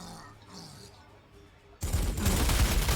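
Gunfire from a Warhammer 40,000: Sanctus Reach battle, bursting in loud and dense about two seconds in after a quieter stretch, a sustained volley that fills the remainder.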